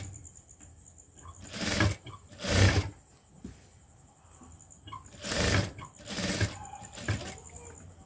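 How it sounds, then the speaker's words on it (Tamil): A sewing machine stitching a lehenga blouse runs in several short bursts of whirring motor noise, close and fairly loud, separated by brief pauses. "நல்லா 1/2 இன்ச் அளவுக்கு பிடிச்சி தையல் போடணும்"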